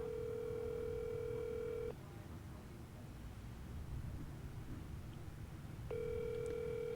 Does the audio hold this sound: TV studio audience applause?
no